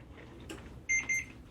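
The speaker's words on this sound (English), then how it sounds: "timer's gone off" A kitchen timer beeps twice in quick succession, close and clear, after a quiet moment in a kitchen where beef tenderloin is roasting.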